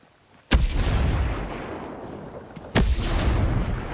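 Two heavy blasts from a grenade explosion and gunfire in the video game Ghost Recon Breakpoint, PvP match: a sudden loud boom, sustained rumbling crackle, then a second sharp blast with continued rumble.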